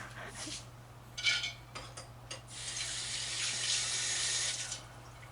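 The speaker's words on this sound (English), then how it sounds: "Just rinse this off a bit." A kitchen faucet runs in short bursts, then a steady stream while food is rinsed for a vegan sushi roll, close and moderately loud over a low hum.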